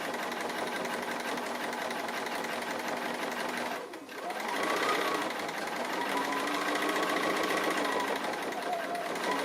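A sewing machine runs steadily while stitching a tree appliqué quilt, its fast rhythmic hum continuous and close. It pauses briefly around the middle, then resumes at the same even pace.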